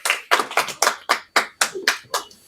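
Rhythmic hand clapping cheers on contestants in a Kashmiri harissa eating challenge: about nine sharp, evenly spaced claps, close and loud, with no voices in between.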